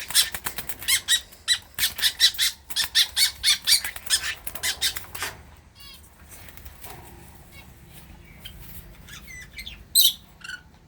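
Two pet birds in a cage squawk in a rapid run of harsh, rhythmic calls that stops about halfway, followed by quieter chirps and one more loud burst near the end.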